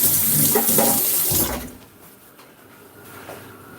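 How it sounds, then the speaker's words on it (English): Tap water runs loudly into a sink while a knife is rinsed off during tilapia preparation, a steady rushing stream for about a second and a half, then cut to a faint trickle and quiet drips. "let me just wash this knife off."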